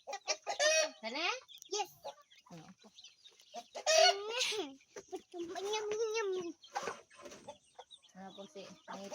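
Chickens cluck and squawk close by while being fed alongside ducks, with voices talking over and between the calls.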